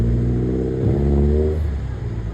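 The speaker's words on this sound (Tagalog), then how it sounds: "Dating naka-scap, ngayon naka-full exhaust na" A turbocharged Honda Civic SOHC on a full exhaust revs close by, a deep droning engine note that rises in pitch and then settles back to a rumbling idle.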